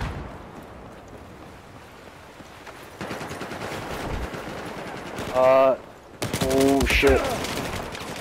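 M16 rifle gunfire in the video game Battlefield 4: sustained rapid bursts, loud and close, mixed with other battle noise, while a voice briefly exclaims and tonal game sounds cut in.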